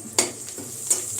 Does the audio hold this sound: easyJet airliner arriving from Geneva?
no